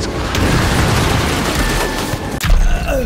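Rapid gunfire and booming shots from the video game Evil West roll on as a dense, continuous barrage, with a sharp cut near the end before the blasts resume loudly.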